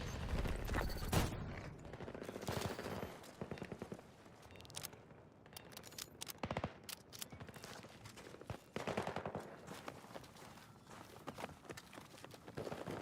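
Rapid automatic gunfire in the video game Battlefield 2042, dense bursts of shots rattling almost continuously and loudly throughout, with brief gaps between volleys.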